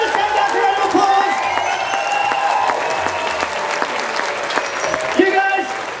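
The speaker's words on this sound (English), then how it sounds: "Give the stand guys a round of applause" Outdoor festival crowd applauding and cheering after a circus and Morris dancing show at a national folk festival, dense steady clapping with whistles and shouts, loud and sustained throughout.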